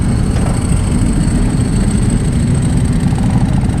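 Motorcycle engine idling aboard a ferry, a loud, close, steady low rumble that continues unbroken, with no talk over it.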